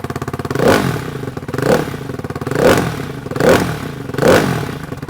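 A Ducati Hypermotard 698 single-cylinder engine with an Austin Racing exhaust fitted with baffles revs up five times at steady intervals, each blip rising loud and close over a lumpy idle.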